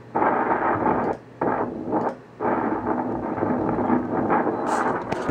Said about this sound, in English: You just hear the wind.